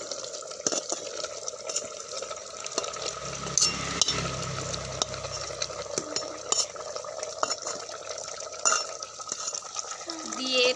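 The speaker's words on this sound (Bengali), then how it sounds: "দিয়ে এটাকে ভালো করে কষিয়ে নেব" Beef with jackfruit seeds and fried potatoes is stir-fried in a pot, producing an ongoing low sizzle with frequent sharp scrapes and clinks from a stirring spoon, close and fairly loud.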